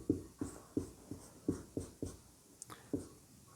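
Chalk tapping and scraping on a board during a physics lesson, a steady series of about ten sharp strokes, close and fairly loud, with no talking over them.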